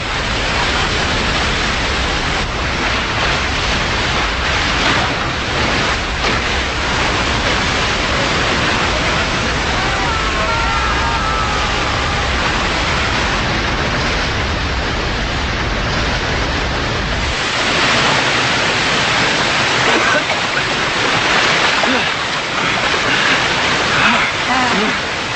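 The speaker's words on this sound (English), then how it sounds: "Indiana Jones and friends plummet from a waterfall that is 110 stories approximately." A waterfall roars in an Indiana Jones and the Kingdom of the Crystal Skull film scene, a loud continuous broadband rush filling the whole span, with a few voices faintly mixed in.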